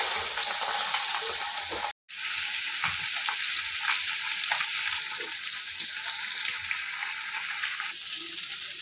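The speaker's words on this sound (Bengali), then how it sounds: "দেখুন আমার মাছ ভাজাটা হয়ে গেছে" Bata fish rubbed with salt and turmeric fry in hot oil, giving a loud, continuous crackling sizzle close up, with a brief cut early on and light spattering throughout.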